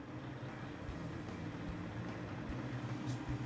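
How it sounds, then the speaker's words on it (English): Blender running on low speed in a kitchen, a steady low motor hum and whir throughout, moderately loud and continuous without talk. "We're going to turn this blender on low."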